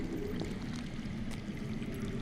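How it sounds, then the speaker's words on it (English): Underground water flows steadily in a dark cave setting of a Game of Thrones adventure game, a soft continuous trickling stream heard faintly and alone. "I hear water. From underground."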